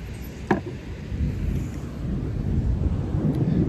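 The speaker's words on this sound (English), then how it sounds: "So it's kinda thundering right now." Thunder rumbling over Puerto Escondido, Mexico, on a rainy day: a low, steady, distant roll with wind buffeting the microphone and a brief crackle near the start.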